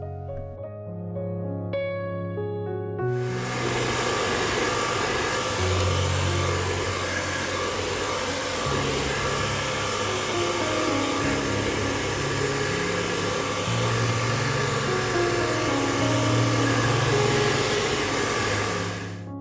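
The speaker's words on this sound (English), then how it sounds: "use hair dryer to dry your background surface" A hair dryer drying watercolor paper switches on after a few soft tones and blows steadily with a loud, constant whooshing hum for a long stretch.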